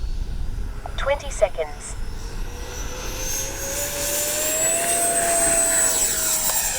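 A Freewing L-39 twin-engine RC model jet in flight gives a steady, rising whine that swells in pitch and loudness, with someone speaking briefly early on.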